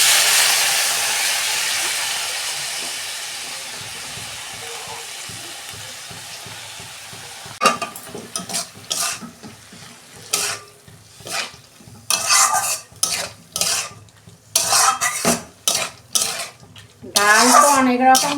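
Washed lentils go into a frying pan with turmeric; a soft sizzle and hiss at first, then a metal spoon scraping and clinking against the pan in irregular stirring strokes, close and fairly loud.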